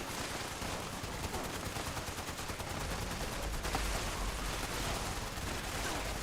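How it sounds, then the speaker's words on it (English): Gunfire in Fallout 76 in Atlantic City, likely from a sawed-off shotgun, crackles as dense, rapid, overlapping shots in a loud continuous barrage with no pauses or speech. "They got a sawed-off shotgun over there."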